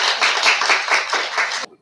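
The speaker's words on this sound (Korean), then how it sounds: "우리 사모님 잠깐 이제 나오실 때 우리 박수로 함께 맞아주시기 바랍니다" A church congregation at a teachers' workshop claps to welcome a pastor's wife to the front, a rhythmic, fairly close round of hand claps in even pulses that stops abruptly near the end.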